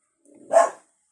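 A house dog gives a single short bark, clear and fairly close, set in otherwise quiet surroundings.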